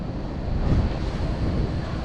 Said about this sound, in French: Il y a beaucoup de vent.